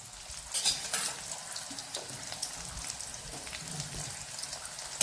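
Sliced onions fry in a pan, giving a steady close sizzle with scraping stirs and occasional clinks of a utensil against the pan throughout.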